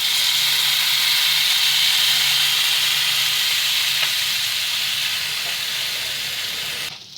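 Soy sauce hits a hot frying pan for a cheap home-cooked dish, giving a loud, steady sizzling hiss that holds for several seconds before easing off at the end.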